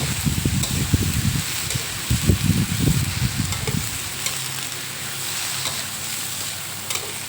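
Cabbage and pork are stir-fried in a pan, a steady sizzle under brisk scraping and tossing strokes for the first few seconds, then a quieter continuous hiss with a few light clinks, close up and without speech.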